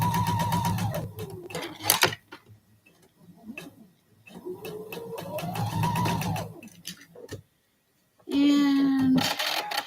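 Sewing machine stitching quilt block fabric, with several bursts of motor hum and needle chatter separated by brief pauses, loud and close; a sharper, higher machine run at the end.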